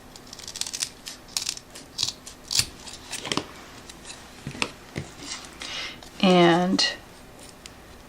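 Scissors snip through Dollar Tree candle-making material in a series of sharp, close cuts spread across several seconds, ending in a longer crunching rasp, with a voice briefly heard.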